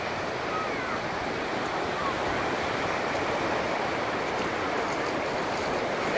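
Ocean surf rolls in steadily at St. Augustine Beach, a dense, continuous wash of breaking waves close by with no clear pauses, carrying on loud and even throughout.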